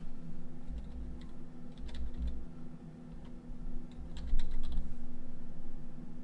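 Password being typed on a computer keyboard, with quiet irregular clusters of key clicks over a steady low hum, no talk.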